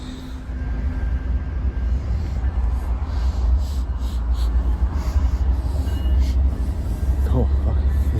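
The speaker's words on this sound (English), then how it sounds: "There's a train." A train rumbles past near a campsite, a steady low roar with a faint whistle-like tone, heard from outdoors at a moderate distance while a person talks quietly over it.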